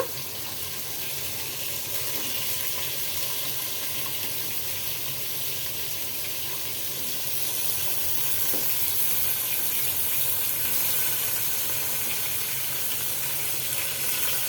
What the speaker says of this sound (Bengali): সব ধরনের সবজি দিয়ে কষিয়ে নেব একটু ফ্রাই করে নেব হালকা